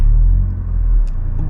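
A 2023 facelift Ford Focus ST Estate with automatic gearbox, in race mode, drives along with a steady low engine rumble and road drone, continuous and fairly loud throughout.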